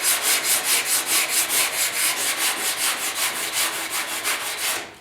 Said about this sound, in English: Sanding primer is just, you know, takes just a nice light touch.